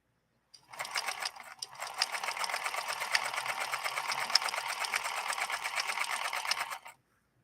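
A 1958 Singer Featherweight 222K stitches glazed cotton with a size 100 universal needle, a steady rapid mechanical whir of fast repeating stitches running for about six seconds, starting after a brief stutter and stopping cleanly.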